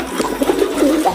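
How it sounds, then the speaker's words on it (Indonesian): A spotted dove gives soft, repeated coos, close and fairly loud, a few rounded notes rising and falling in quick succession with no talking over them. "ada burung balam teman-teman"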